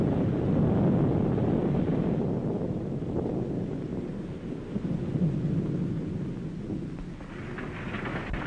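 A thunderstorm in an old Western film, with steady wind roar and rumbling thunder building and fading over a continuous rain-and-wind wash, loud and dense throughout with no voices.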